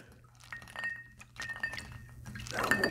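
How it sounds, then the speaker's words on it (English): A White Russian cocktail stirred in a glass with a large ice ball, giving soft clinks and a liquid swirl that grows louder and busier toward the end, close up and with no talking. "let's give it a little stir there. Get it nice and cold with the ice ball."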